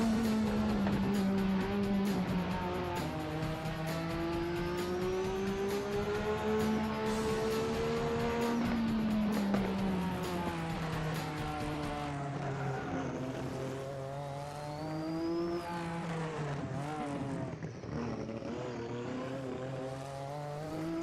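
A race car in the Assetto Corsa driving game screams along at high revs, its engine tone rising and falling through gear changes and corners, steady and loud throughout with no voices.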